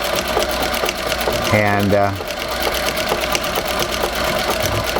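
A Singer 201-3 sewing machine set in a treadle stitches with a steady, close mechanical whir and rhythmic ticking, briefly rising in a faster run, while a voice talks over it.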